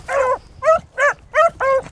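A beagle hound at a beagle club gives five sharp, tonal yelping barks in a steady rhythm, close and fairly loud, with no talking over them.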